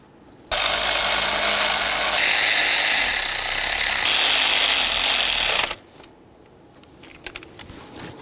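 A power tool drives nuts onto studs during an ignition coil replacement on a 1994–2004 Chevrolet S-10. One loud continuous whirring, rattling burst lasts about five seconds, then stops, leaving quiet shop noise and faint clicks.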